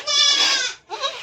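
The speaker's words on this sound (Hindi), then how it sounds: "ये बकरी है," A nanny goat gives a loud, close, wavering bleat, then a second shorter bleat after a brief pause.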